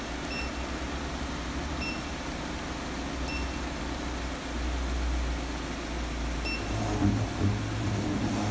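A transmission oil exchange machine pumps new oil into the TF72-SC automatic transmission of a Jeep Renegade with a steady, even mechanical hum. Faint electronic beeps repeat every second or two, and no voices are heard.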